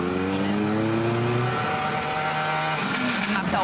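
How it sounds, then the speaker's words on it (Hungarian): Subaru R4 rally car racing flat out on a special stage of the 2012 Barum Czech Rally in Zlin, a loud, steady high-revving engine with rising and falling harmonics as it shifts and passes close. "Aigner egy Subaru-val megy"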